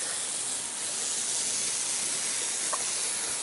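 Rain Bird sprinklers spraying water across a yard, a constant broadband hiss with no pauses, steady and moderately faint.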